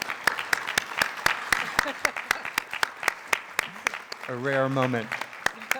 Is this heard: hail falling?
no